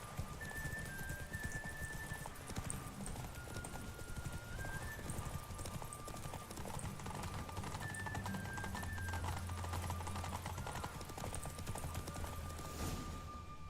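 Hooves of Roach, a horse in The Witcher 3, clip-clop in a steady rhythm over game music, with a faint whinny near the start and the beat running continuously throughout.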